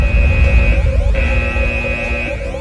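A loud electronic alarm tone blares continuously, layered with buzzing, clashing pitches over a dense noisy background.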